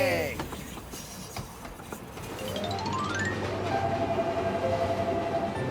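A cartoon train rolls along in an animated Hindi children's show, a rising whistle-like tone and rumbling wheels building steadily louder over background effects.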